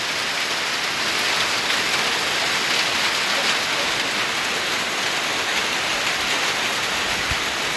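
Heavy rain pours down steadily at night during a cold storm, a loud, dense, unbroken hiss of drops with no voices.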